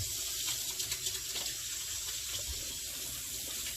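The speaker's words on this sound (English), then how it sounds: "Now, just wash my hands real quick." Tap water runs steadily into a kitchen sink as hands are rinsed under it, a close, continuous splashing rush with no talk.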